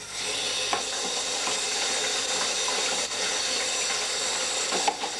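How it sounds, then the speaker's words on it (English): Tap water runs steadily into a colander as wild berries are rinsed, a close, even rushing with faint clatters and splashes throughout and no talk. "rinse them out well in a colander under tap"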